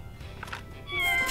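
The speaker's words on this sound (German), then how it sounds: "Wie sie gefaucht hat." A cat meows and then hisses in the video game Scribblenauts Unlimited, a short, fairly quiet meow followed by a louder, breathy hiss near the end, with no talk over it.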